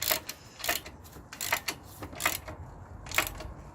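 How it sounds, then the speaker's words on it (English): Ratchet tightening bolts on crash bars fitted to a 2007–2012 Honda Varadero XL1000 motorcycle: five quick bursts of clicking pawl, evenly spaced and close up, with no talk. "The final step is to go ahead and tighten up these bolts."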